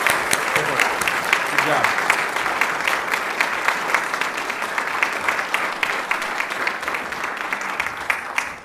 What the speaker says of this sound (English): let's give these kids a big round of applause